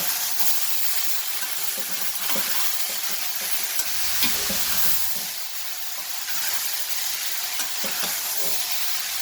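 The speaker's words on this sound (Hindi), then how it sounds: "आपने इसको 1-2 मिनट के लिए अच्छा सा फ्राई करना है तेज आंच के ऊपर" Okra (bhindi) fries in a pan on high heat while being stirred, a continuous bright sizzle with intermittent scraping stirs and a short deeper rumble midway, no talking.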